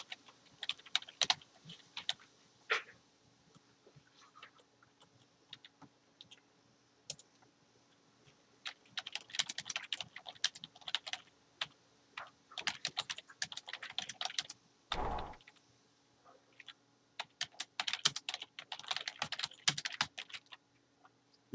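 Typing on a computer keyboard comes as bursts of quick, light key clicks separated by pauses, close and faint in a quiet room, with one heavier thump partway through.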